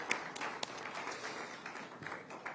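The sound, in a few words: audience applause for the Minister of Finance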